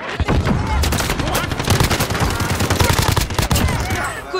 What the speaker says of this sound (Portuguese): Quanto tiro aqui?